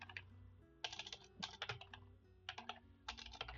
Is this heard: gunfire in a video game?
no